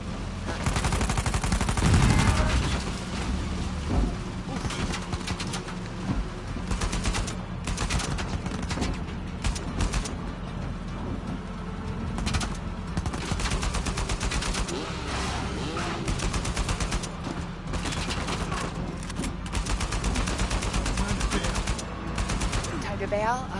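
Sustained video game gunfire in Uncharted 4, with dense rattling automatic bursts and single heavy shots firing almost nonstop for over twenty seconds, and players talking now and then over the shooting.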